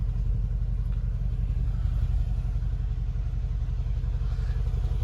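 A Mercedes G63 AMG twin-turbo exhaust gives a steady, deep low rumble, heard close and continuous without much change for a few seconds.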